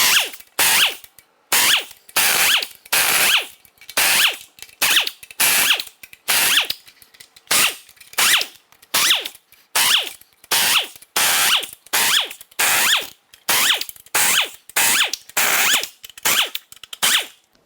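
A pneumatic impact tool hammers out Loctited upper oil pan bolts on a BMW N63 V8, firing in sharp repeated bursts of about half a second each, separated by short gaps, close and loud with no talking.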